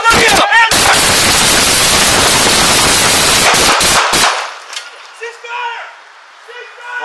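A rapid, loud burst of close gunfire rings out over about four seconds during a police shooting incident, then cuts off to quieter background with voices.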